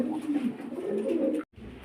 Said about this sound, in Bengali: লাহোরি কবুতর বিগ সাইজ একদম ফ্রেশ